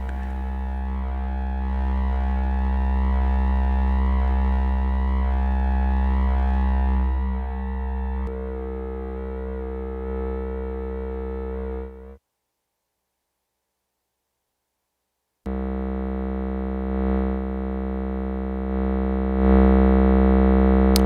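A Mutable Instruments Tides oscillator on a modular synthesizer, running alternate firmware and routed through a low pass gate with reverb and delay off, drones as a loud, harmonically rich, buzzing tone that cuts to silence for a few seconds before resuming.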